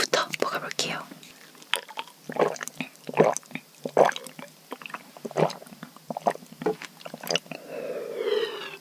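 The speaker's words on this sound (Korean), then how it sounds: "이 딸기 우유부터 먹어볼게요." Homemade strawberry milk sipped close to the mic, with wet slurps, gulps and small mouth sounds coming in irregular bursts, mixed with soft whispering.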